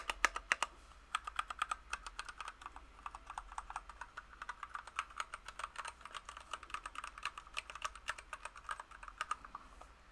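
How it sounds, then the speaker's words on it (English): Rapid, quiet tapping and clicking on a computer keyboard in a bedroom, irregular bursts of crisp keystrokes close to the microphone with no talking. "Oh, right, my keyboard."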